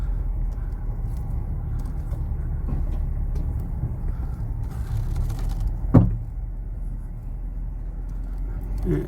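A skinny Mazda 4WD idles and crawls along a rough bush track, its engine a low steady rumble, with a sharp clunk of the gear change near the middle and faint rattles around it.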